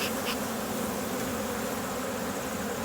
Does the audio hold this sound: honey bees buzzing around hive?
yes